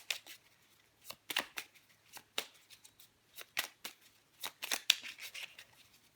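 Oracle cards being shuffled by hand, a series of close, crisp riffling bursts and soft slaps in irregular clusters, with quiet pauses between them.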